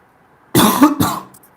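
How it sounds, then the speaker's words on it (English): A commentator's two sharp coughs during a men's soccer broadcast, loud and close to the microphone, the second shorter and trailing off into a throat clear, with silence before and after. "I have a bit of a cough."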